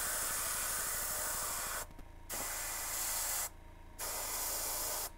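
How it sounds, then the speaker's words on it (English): An affordable airbrush runs off a compressor at about 40 PSI, spraying black paint in three long steady hisses broken by two brief pauses, close and alone. "I have the compressor bumped up to about 40 PSI"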